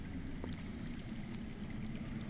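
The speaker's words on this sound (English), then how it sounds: "I hear water. From underground." Underground water flowing in the Game of Thrones Telltale video game, a steady, muffled rushing wash with low rumble that holds constant throughout, heard alone.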